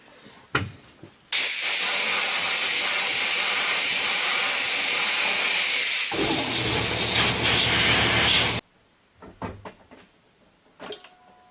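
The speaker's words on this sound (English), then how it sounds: "I'm going to blow it off with some air so that I can hopefully see if there's some leaks" Compressed air blasting loudly over a newly replaced diesel fuel filter on a 2002 Duramax 6.6 engine, one sustained close hiss of about seven seconds with a few clunks before and after.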